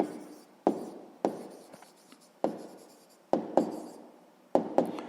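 Pen strokes on notebook paper as numbers are written for a sixth-grade maths exercise, a series of sharp scratchy bursts at uneven intervals, close and fairly loud, with no voice.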